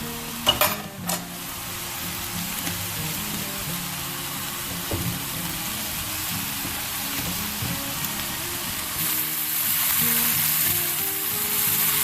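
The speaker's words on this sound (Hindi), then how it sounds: "थोड़ी सी कुटी हुई लाल मिर्च, आधा चम्मच नमक, थोड़ी सी काली मिर्चें" Noodles fry in a pan with crushed red chili, salt and black pepper, a steady close sizzle running throughout with a few sharp clatters near the start and a slightly louder hiss toward the end.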